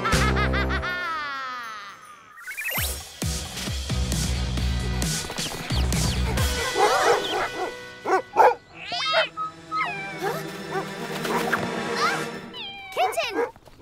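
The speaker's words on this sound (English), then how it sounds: "That dog's loud bark is scaring her." A cartoon dog barks loudly in several bursts, mixed with meowing, yelps and animated voices in a children's robot-pet show.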